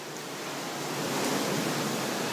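Ocean surf at an abandoned beachfront resort on Koh Tao, Thailand, a steady broad wash of waves that swells slightly louder midway, with no voices.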